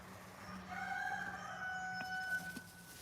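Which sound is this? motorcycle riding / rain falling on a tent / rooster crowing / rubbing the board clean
rooster crowing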